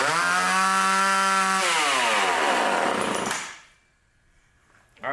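A chainsaw runs at full throttle after its carburetor high-speed screw was adjusted, sounding slightly rich: a loud, close buzzing whine that drops in pitch partway through, then dies away to near silence, with a faint noise at the very end.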